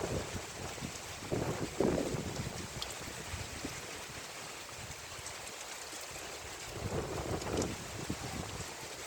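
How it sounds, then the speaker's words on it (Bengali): Strong wind from a sudden storm buffets the microphone in rumbling gusts, with louder bursts near the start and end and a steady roar between, no voices. "অনেক জোরে জোরে বাতাস হচ্ছে।"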